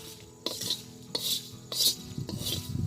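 A spoon scrapes and stirs a dry spice mix roasting in a pan for aloo kabli, with four louder scraping strokes about half a second apart and light rattling in between.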